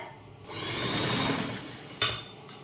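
An electric sewing machine runs in one sustained whirring burst while stitching a fabric strip for a neckline, then stops with a sharp click and a brief second whir.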